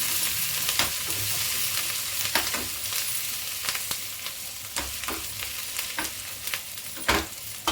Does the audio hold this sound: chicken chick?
no